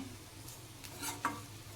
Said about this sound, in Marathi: तेलामध्ये आपल्याला पुन्हा हा मसाला फ्राय करावा लागतो